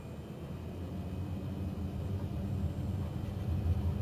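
Small airplane on its takeoff run with flaps fully extended, heading out over the Namib Desert from a remote airstrip: a steady, loud low engine drone and rumble that builds slightly toward the end, with no voices.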